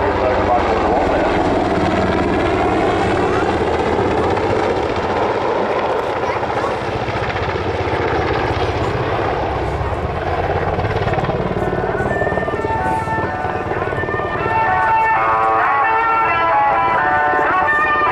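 A Sikorsky UH-60 Black Hawk helicopter flying a display at an airshow, its loud, steady rotor and engine roar filling the whole stretch as it climbs and turns. A public-address voice talks over it throughout.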